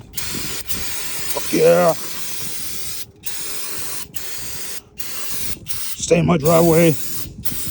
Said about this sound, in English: Now we hit the Super Tech brake cleaner.